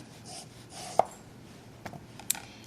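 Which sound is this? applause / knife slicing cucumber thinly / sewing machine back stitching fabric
knife slicing cucumber thinly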